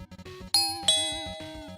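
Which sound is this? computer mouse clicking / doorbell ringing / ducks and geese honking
doorbell ringing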